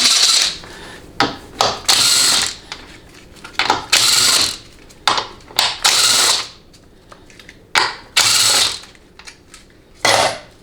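A ratchet wrench loosens the 1/2 inch hold-down plate bolts on a TH350 automatic transmission, with repeated bursts of sharp metallic clicking separated by short pauses.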